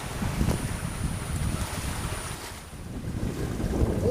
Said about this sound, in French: Des rafales, il y a de belles rafales.